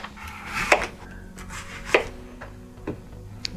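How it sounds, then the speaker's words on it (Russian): A few sharp knife cuts into firm apples, spaced irregularly, close by with a quiet background and no talking. "Так что приступаем к нарезке яблок пока сейчас."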